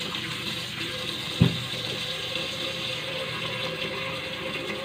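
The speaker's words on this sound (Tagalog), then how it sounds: "hugasan po ulit natin" Running tap water washes beef bones in a kitchen sink, a steady continuous rush of water with one brief louder splash or knock partway through, no talking.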